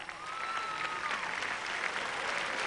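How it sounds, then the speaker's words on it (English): Crowd applause at the Miss Earth 2004 beauty pageant, a broad sustained roar of clapping heard somewhat distant and faint, with a brief tonal whistle-like sound and murmurs mixed in. "once again, another round of applause also for Mr. Piolo Pasquale."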